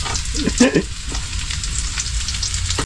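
Onions or aromatics sautéing (gisa) in a frying pan give a loud, steady, close-up sizzle throughout, with a brief flare of bubbling and spatter early on.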